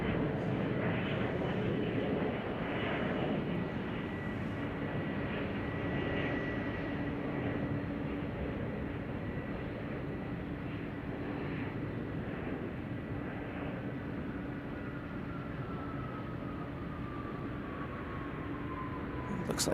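A Boeing 747 heavy jet lands and slows on the runway at Chicago O'Hare, giving a steady, broad engine roar with a faint whine that holds across the whole stretch, fairly distant and unbroken.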